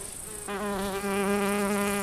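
A loud, steady buzz of solitary bees with a strong droning pitch, close by and continuous, rising in after a brief quieter moment.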